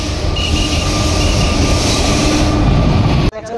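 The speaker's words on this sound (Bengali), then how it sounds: "আপনারা দেখতে পাচ্ছেন ভাগীরথী এক্সপ্রেস এখন বেলডাঙায় ঢুকছে।" The Bhagirathi Express rolls into Beldanga station, a loud, close, continuous rumble of wheels on rail with a squealing tone, cutting off abruptly near the end.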